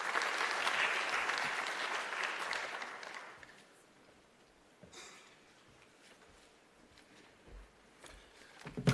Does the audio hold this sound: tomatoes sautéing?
no